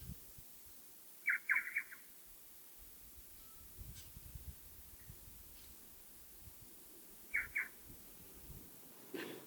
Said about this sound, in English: If you listen carefully, you will hear the bellbirds.